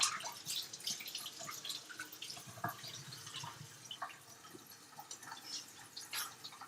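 Hands washed under a running kitchen tap to clear off oil, a quiet stream of water with splashing and dripping, close but faint throughout.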